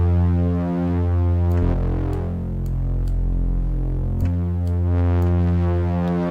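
A synthesizer tone runs through a low-pass filter with drive added through the resonance knob, producing a sustained, buzzing, distorted drone with shifting filter sweeps and a few clicky transients, loud and steady without speech.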